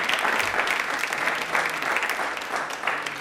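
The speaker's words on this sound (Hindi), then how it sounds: "बट एक बार श्वेता के लिए तालियां जोरदार जाएं प्लीज" Studio audience on a Rajasthani TV quiz show applauding a correct answer: a steady, dense burst of clapping from a crowd, loud and continuous throughout without talk over it.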